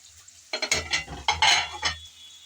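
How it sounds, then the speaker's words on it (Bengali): Pre-fried prawns being stirred into cooking masala in a pan, a run of close scraping and tossing strokes with a soft sizzle, about a second and a half long, with no voices. "চিংড়িগুলো দিয়ে নেড়ে চেড়ে ভালোভাবে কষিয়ে নেব"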